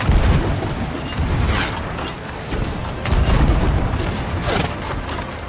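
Ship cannons fire in a pirate naval battle in Sea of Thieves, a series of deep booming blasts with rumbling tails recurring every second or so, loud and close.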